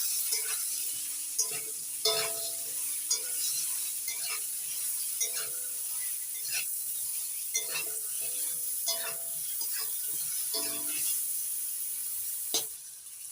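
Eggplant pieces with salt and turmeric fry in oil in a pan, sizzling steadily while a spatula clacks and scrapes in frequent, irregular stirs.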